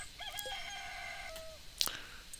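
Rooster crowing in the farming video game Stardew Valley, a single clear cock-a-doodle-doo with rising and sustained tonal notes, followed by a brief sharp chime-like blip, close and alone over faint background.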